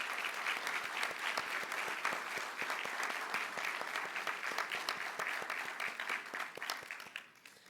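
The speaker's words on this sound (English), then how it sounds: "Let's give all of our candidates one more round of applause." A chamber of commerce audience applauds political candidates at a morning stump-speech event, a dense, steady burst of many hands clapping that carries on evenly and tapers near the end, with no talking over it.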